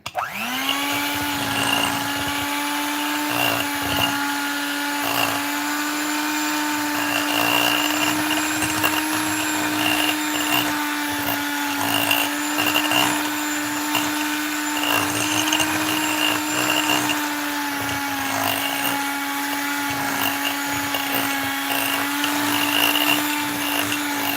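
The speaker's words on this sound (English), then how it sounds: "You have a blender next to your phone." A blender whips tallow balm with a loud, steady motor whine and a constant high-pitched drone. The pitch holds nearly level throughout, with slight fluctuations as the mixture churns. No one speaks over it.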